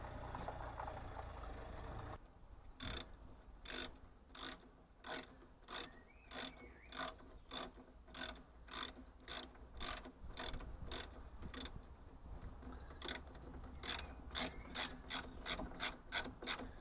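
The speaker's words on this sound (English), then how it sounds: "Now we just need to hit them up with a torque wrench" A torque wrench ratchets on the bolts of a 40mm lift kit for a Land Rover Freelander 1, with regular rapid clicking bursts in a steady rhythm, close and clear, no talk.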